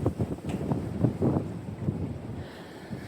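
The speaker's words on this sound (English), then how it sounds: "It's freaking windy right now." Strong wind on a very windy day in Michigan, gusting and buffeting the microphone in uneven pulses, fairly faint and with no talk.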